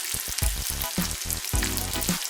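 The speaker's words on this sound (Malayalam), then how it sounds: "ഇത് രണ്ടും കൂടെ നന്നായി ഒന്ന് വഴറ്റി എടുക്കുക." Green chilies sautéing in a pan for a pickle, giving a close, steady sizzle broken by short bursts of stirring that repeat in an uneven rhythm, with no voices.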